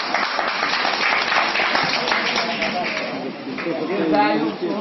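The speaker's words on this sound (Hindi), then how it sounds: "एक बार जोरदार ताली डॉक्टर साहब के लिए" Loud applause for a doctor at a gathering in a village in Madhubani district, a steady clatter of many hands that swells toward the end, with voices talking over it.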